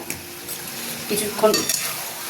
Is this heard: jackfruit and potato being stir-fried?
yes